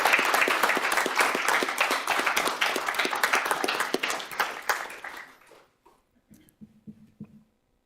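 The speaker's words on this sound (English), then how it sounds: "Let's give him a round of applause." Applause from the audience at a school board meeting: dense, steady clapping for about five seconds that then thins into a few scattered claps before fading out.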